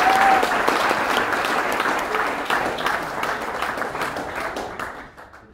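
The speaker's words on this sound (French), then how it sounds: "on va quand même donner leur nom et on va les applaudir, Carneiro Carolino Augusto" Applause from the audience at a graduation ceremony for commerce employees, dense continuous clapping that stays loud and fills the room before thinning and stopping near the end.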